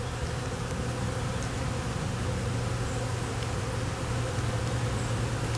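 Honeybees drone steadily in an opened hive during a colony inspection, a dense, continuous buzz that holds close and even throughout with no voices.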